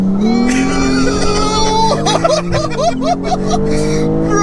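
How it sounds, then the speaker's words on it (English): A BMW 240 with a 1500 hp B58 engine launches hard with all four wheels spinning, a loud, rising engine howl climbing in pitch, with excited voices talking over it. "it's spinning up all 4 wheels"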